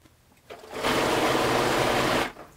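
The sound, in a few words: sewing machine stay stitching fabric around neckline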